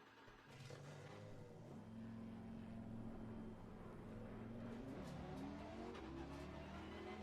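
A race car in Assetto Corsa Competizione heads out for laps, its engine droning steadily and climbing in pitch through the gears. The tone dips and rises again as the car shifts, loud and continuous with no talk.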